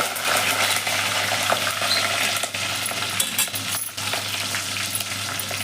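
Garlic and green chillies sauté in hot oil for an eggplant kuzhambu, giving a steady loud sizzle with faint scraping stirs and a brief dip near the end, no voices.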